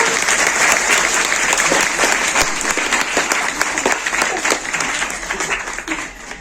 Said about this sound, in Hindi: तो तालियों से प्रदर्शित कर दीजिए